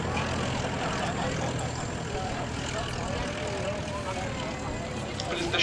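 A Focke-Wulf Stieglitz vintage trainer aircraft flies at the Duxford air show with a steady, moderately distant propeller drone, and the engine holds constant throughout while a commentator may be speaking faintly underneath.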